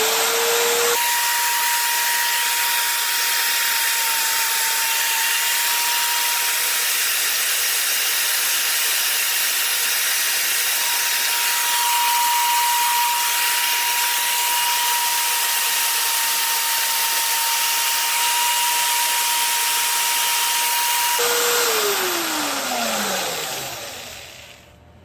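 A buffing wheel polishing a titanium ring gives a loud, steady, close whirring roar with a constant tone that holds for about twenty seconds, then winds down as the wheel slows near the end.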